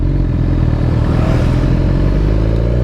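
BMW GS motorcycle being ridden in a race, its engine a steady, loud, close drone with a continuous harmonic hum and faint mechanical clatter throughout.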